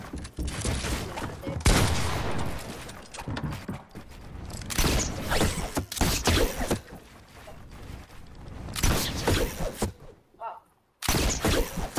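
Fortnite gunfire comes in dense, loud, close volleys with mechanical clatter between them, separated by brief quieter gaps, with some speech mixed in.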